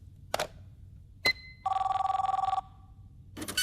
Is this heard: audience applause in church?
no